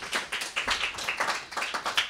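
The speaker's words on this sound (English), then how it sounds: "A little round of applause." A small audience claps after a travel presentation, giving a brief round of steady, moderately loud applause.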